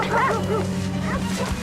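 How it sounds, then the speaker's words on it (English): Big wild dogs bark loudly and close, a quick pair of harsh yapping barks followed by another bark a moment later over a low steady hum. "Two dogs, two big wild dogs."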